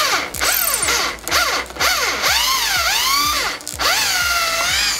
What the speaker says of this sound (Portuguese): Vou trocar de broca agora pra broca mais grossa, pra gente conseguir furar e abalar mais essa estrutura.